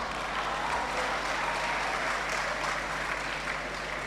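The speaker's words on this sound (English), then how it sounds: "Clap yourselves" Sustained, even applause fills a hall at a medical-science pledge ceremony, a dense wash of many clapping hands at steady loudness throughout with a faint hum beneath.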